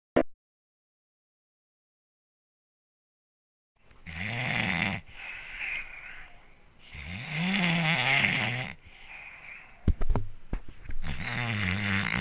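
Someone imitates loud snoring with the voice, making several long rasping snores separated by short pauses after a stretch of silence, close and prominent.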